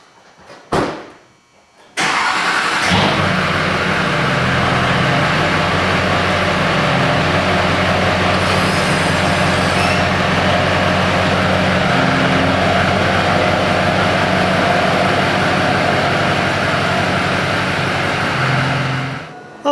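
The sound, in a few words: car driving on first test drive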